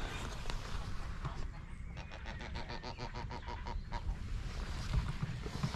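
Geese honk at Old Bury Hill lake. A rapid series of nasal honks rises out of steady wind and outdoor noise in the middle of the clip, fairly faint and somewhat distant.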